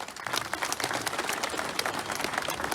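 Crowd applause at a political rally for social organisations in Calca, Peru: dense, continuous clapping at moderate distance without speech on top.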